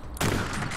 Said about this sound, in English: the recoil feels a bit weirder on the shotgun now